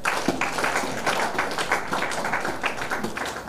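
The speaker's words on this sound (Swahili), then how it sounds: "makofi yaende." Audience applause at an annual general meeting of a university convocation, a steady, fairly close patter of many hands clapping that continues throughout without a break.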